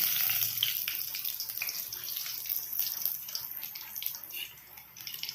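Asafoetida and cumin seeds sizzling in hot oil for a Marathi ridge gourd thecha, with a steady bright hiss and crackle that stays close and even throughout, no voices.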